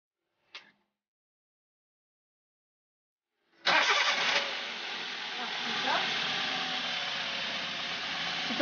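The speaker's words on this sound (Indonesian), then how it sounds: "Kemudian, saya akan starter mobil." A car is started with a portable jump-start power bank: a faint click, a few seconds of quiet, then the engine cranks, catches and settles into a steady close idle.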